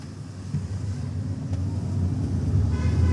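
A manual car pulls away in first gear as the clutch is slowly released in city traffic, a steady low engine rumble rising gradually in loudness, close and continuous with no talk.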